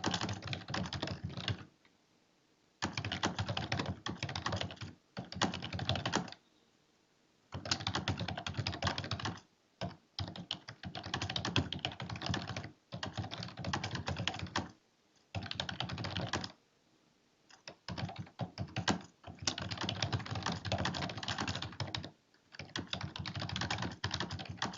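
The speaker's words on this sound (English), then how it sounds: "I'm typing from page 96 into the note section of this slide" Fast typing on a computer keyboard, entering presentation notes into a slide, comes in long bursts of dense key clicks split by short silent pauses, close and fairly loud throughout.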